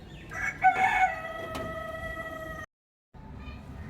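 A rooster crows loudly and close by in one long, drawn-out call, followed by a short silence and faint background noise afterward.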